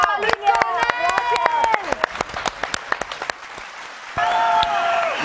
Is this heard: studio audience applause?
yes